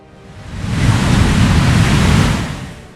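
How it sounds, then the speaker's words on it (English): An airplane taking off is heard as a broad roaring rush that swells from quiet to a loud sustained peak, rumbles heavily in the lows, and then fades. "Some sounds that exceed this level are in an airplane taking off"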